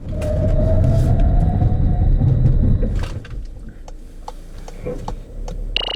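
A 2018 Volkswagen Tiguan 2.0 TDI under a braking test produces a loud, close rumble of road and engine noise for about three seconds, then drops abruptly to a quieter cabin with scattered light clicks and knocks.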